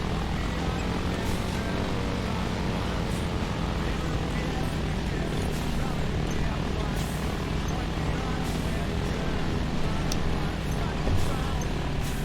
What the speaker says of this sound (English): No, this is a Hawker Typhoon.